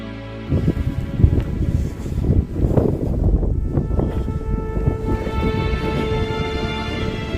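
Wind blowing across open, exposed desert ground on the Arizona Trail, a steady rushing buffet with some rustling and gusty swells that stays close and constant throughout.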